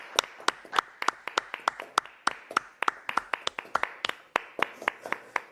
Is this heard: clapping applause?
yes